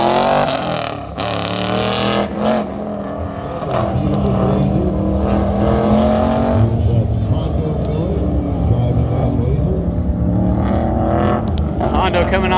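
A pro touring Blazer truck runs an autocross lap, its engine revving and roaring continuously at close range while people talk over it.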